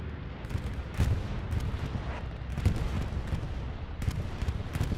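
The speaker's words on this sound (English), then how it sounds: "Allied bombing run." An allied bombing run pounds enemy positions in a World War II video game match, a steady low rumble of distant explosions punctuated by repeated heavier thumps and crackling impacts, no voices.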